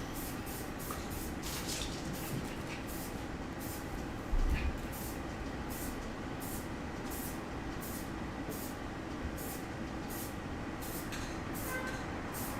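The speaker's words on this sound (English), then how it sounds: "only pushing down on the spray paint when I want paint." Spray paint can of chameleon paint hissing outdoors at sunset in Dallas: a steady, loud, broadband spray that runs throughout, with faint repeated clicks on top.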